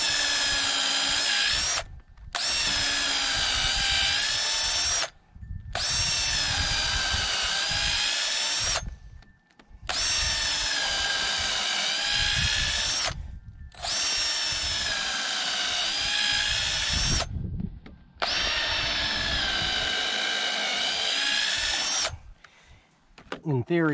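A power drill drives 12-inch lag screws, pre-drilled, into timber in long loud runs of several seconds each, separated by short pauses, with a steady whining motor pitch.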